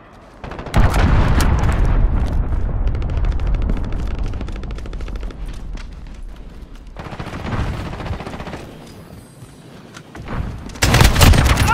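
Loud sustained gunfire and booming blasts from a missile strike during a night-vision round of Call of Duty: Modern Warfare, continuous rattling bursts with heavy low rumble that ease off then surge again at the end.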